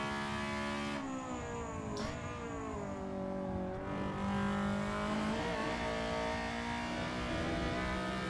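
Honda Civic race cars run at Donington Park, their engines droning and shifting pitch at a distance as they accelerate and pass in a steady, sustained roar.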